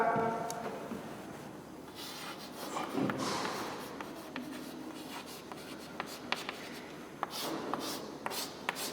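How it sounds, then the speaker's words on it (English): Pen writing on paper while a lecturer works through a bending and torsional stress problem, a steady scratchy rubbing with brief taps, moderately close and fairly quiet, with no talking. "The first thing is I will write down the given data."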